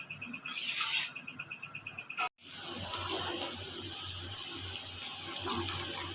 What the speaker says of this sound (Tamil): நல்லா கொதிக்கட்டும் தண்ணி